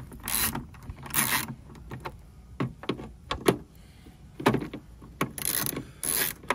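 A ratchet with a deep socket and extension loosens 10 mm bolts on a Subaru Forester rear signal light, giving several close, sharp bursts of clicking and metallic rattling separated by short pauses.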